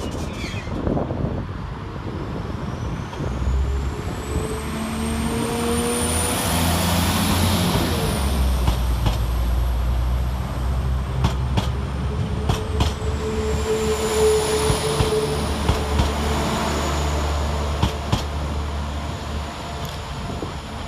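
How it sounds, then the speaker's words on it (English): Northern diesel units 19508 and 19504 departing Bradford Interchange on a Chester to Leeds service: a steady low engine drone builds as the train pulls away, with wheel squeal and rising tones over continuous rail rumble, close and loud. "And now for the departure of our train, 19508 and 19504, working the 1322 Northern service from Chester to Leeds."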